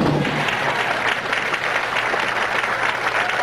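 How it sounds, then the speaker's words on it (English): Spectators at a national bowling championship clap and cheer steadily, dense applause sustained at an even level throughout. "there are 2 really cheering spectators"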